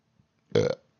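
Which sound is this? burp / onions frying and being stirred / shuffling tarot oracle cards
burp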